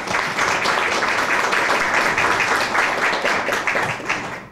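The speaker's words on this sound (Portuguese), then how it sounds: "Por favor, gente, uma salva de palmas." Audience at a real estate brokers' credential ceremony in Gravataí applauds continuously, a dense, steady wash of clapping filling the room with no break.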